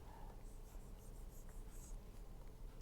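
Pen scratching on paper during an electrical engineering lecture, a faint series of short strokes in quick succession against quiet room hiss, with no talking.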